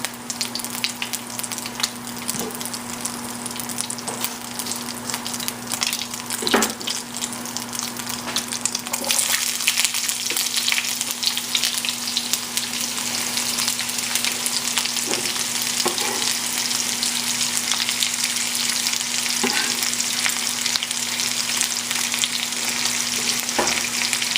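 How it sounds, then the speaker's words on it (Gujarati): Chopped onion fries in a pan over high heat, a loud continuous close sizzle that swells and grows denser partway through, with occasional clinks of stirring. "ઓકે, આની અંદર આપણે નાખી દઈશું આપણી ડુંગળી."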